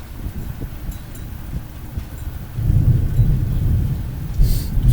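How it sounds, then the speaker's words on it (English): Low, rolling thunder rumbles in the distance over steady rain, swelling louder midway and lingering. "Sounds like the thunder is over in the south."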